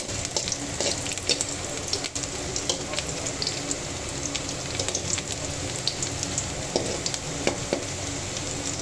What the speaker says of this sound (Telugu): డీప్ ఫ్రై చేసుకోవాలి. ఉల్లిపాయలు బ్రౌన్గా అయ్యేంత వరకు తిప్పుకుంటూ ఉండాలి.